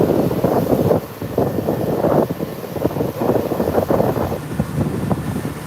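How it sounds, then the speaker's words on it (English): Gusty wind buffeting the microphone in rough, rumbling bursts, loud and close, rising and falling over a steady background whoosh. "You know, I know it's got to be windy. Everyone knows it's windy."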